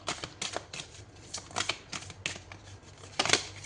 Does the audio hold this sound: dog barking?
no